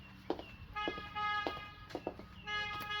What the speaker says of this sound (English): You can hear them honking.